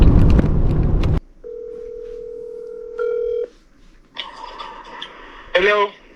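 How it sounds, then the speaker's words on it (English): A telephone call being placed: a brief burst of loud sound, then a steady dial tone followed by a short run of touch-tone dialing beeps and a burst of brighter tones at the end, heard close and clear. "You're not going to want to miss out on the phone call"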